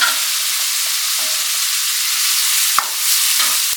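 Onions, curry leaves and two green chillies frying in a pan for egg curry, a loud, steady close sizzle with a couple of sharp clinks from stirring near the end.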